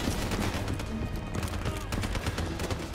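Sustained gunfire during a Black Ops 3 campaign battle, with dense rapid bursts of automatic shots rattling continuously under other game noise, and a voice faintly present.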